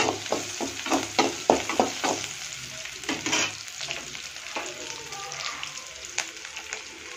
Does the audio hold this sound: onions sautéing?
yes